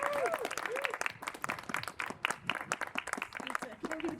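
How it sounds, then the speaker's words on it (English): An audience at a memorial gathering claps to welcome the next speaker, moderately loud and uneven, a scattered round of hand claps with a few faint voices mixed in. "Everybody, clap her in."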